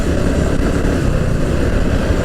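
A Suzuki Gixxer motorcycle is ridden on a wet road in the rain, and its engine gives a steady, close, rumbling drone mixed with wind noise. There are no voices.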